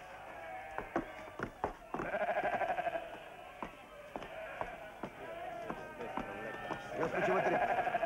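Sheep bleat repeatedly, several overlapping calls from a flock in a fold, heard under people talking, with scattered knocks and shuffling around them.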